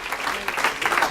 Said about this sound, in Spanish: El fuerte ese aplauso al Dios poderoso en esta hora.